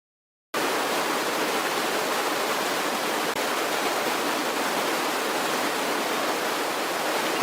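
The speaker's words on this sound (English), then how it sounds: "Water deluge is activated." A rocket launch pad water deluge system switching on abruptly and spraying as a loud, steady, unbroken rush of water noise that continues to the end, with no talk.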